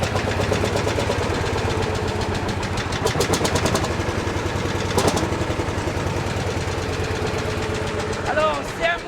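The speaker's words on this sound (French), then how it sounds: "on le démarre par le maneton et on balance le moteur de gauche à droite" A vintage Clément tractor engine, hand-cranked to start, idles with a steady mechanical chugging throughout, close and loud, and a voice speaks over it.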